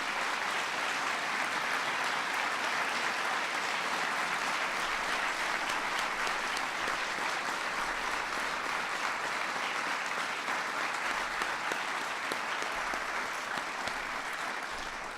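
Sustained, loud applause from a large crowd at the National Medals of Science and Technology ceremony at the White House, a steady roar of clapping lasting throughout.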